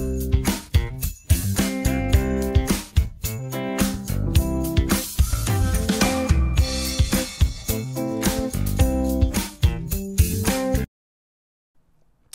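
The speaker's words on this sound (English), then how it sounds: "And then the music instrumental sounds like this." Instrumental backing of a song with its vocals stripped out by free vocal-removal software, a little degraded from MP3 source; full band with steady beat and sharp percussive hits plays loud and continuous, then cuts to near silence at the end.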